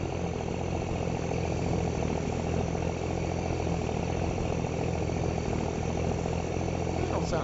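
A vehicle engine idles steadily in Farming Simulator 22, a rough, low rumble that holds constant throughout with a faint higher whine over it.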